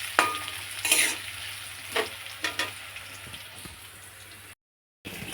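Potatoes sizzling and frying in a pan, a soft steady crackle with occasional louder bursts of hissing and stirring scrapes, then a brief cut to silence before the frying resumes.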